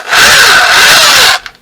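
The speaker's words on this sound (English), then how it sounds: "I'm going to try and drill this thing." A drill bites steadily into a broken bolt on a 1989 Suzuki RMX 250 vintage dirt bike, making a loud, close, grinding whir for just over a second before it cuts off.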